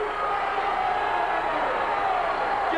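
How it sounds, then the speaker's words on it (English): A wrestling arena crowd at the Coliseum roars with a continuous, dense wash of cheering and shouting that stays loud and steady for the whole stretch. "And this crowd here in the Coliseum is going crazy."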